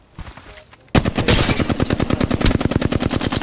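Automatic gunfire in the Apex Legends video game, a sudden loud burst of rapid evenly spaced shots that starts after a quiet moment and keeps going to the end.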